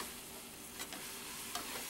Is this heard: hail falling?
no